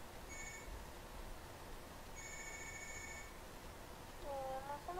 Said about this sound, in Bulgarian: телефон звъни